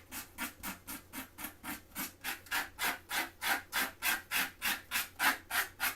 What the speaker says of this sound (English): the sharper the knife, the better for scraping off colour. It makes a beautiful sound as well.